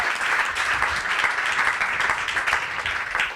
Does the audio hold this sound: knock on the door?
no